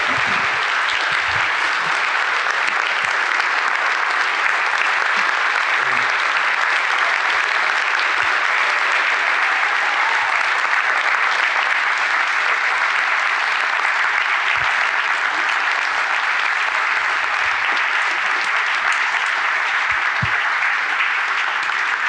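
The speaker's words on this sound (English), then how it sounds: "please give them a raucous round of applause" Sustained, dense applause from a crowd at a documentary premiere at UVA, steady and full for over twenty seconds with no letup and no talk over it.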